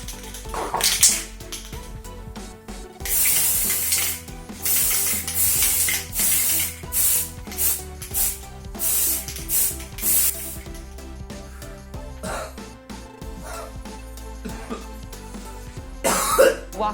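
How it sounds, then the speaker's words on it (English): Silver Halloween hair spray paint hisses from an aerosol can in repeated bursts of varying length, some long and some short, close to the microphone. "I got some silver hair Halloween spray paint."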